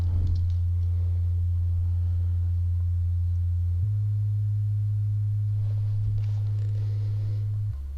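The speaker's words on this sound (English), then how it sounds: "Now we can hear that the bass is gonna be fading out." A steady, deep sine-like synth bass drone in a tech house track made in FL Studio, fading out through a filter, holds one note, shifts pitch slightly midway, and sits under faint background noise.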